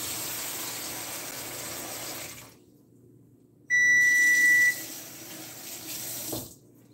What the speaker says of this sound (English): That beep, that's the oven already heated.